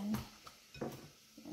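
Raw chicken wings dropped into a pan for parmesan chicken wings, giving a few brief clattering, sizzling contacts against the pan, quiet and close with short pauses between them.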